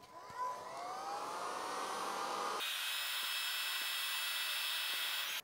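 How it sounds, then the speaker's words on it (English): Mini heat gun blowing steadily to shrink heat shrink tubing on a 737 clock build, a continuous close airy whir that shifts to a higher, brighter pitch partway through. "Bring in the mini heat gun."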